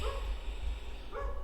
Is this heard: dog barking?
yes